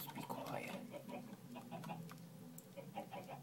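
Minecraft chickens cluck on a farm in the game, soft repeated clucks and small scattered sounds, faint and fairly distant, with a voice murmuring now and then.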